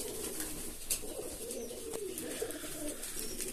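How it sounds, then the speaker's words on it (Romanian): Pigeons of a fantail-type breed coo continuously nearby, with soft, low, rolling calls that overlap in a steady murmur and no voices. "ăștia sunt porumbeii"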